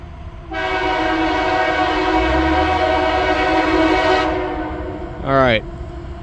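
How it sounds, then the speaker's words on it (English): A loaded CSX coal train passes near Watersville Road, its multi-tone horn blaring steadily for several seconds before cutting off, with a low rumble of the train underneath and a brief falling squeal afterward. "Alright, loaded coal train."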